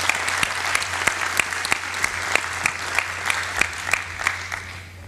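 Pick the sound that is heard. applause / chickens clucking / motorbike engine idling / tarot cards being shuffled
applause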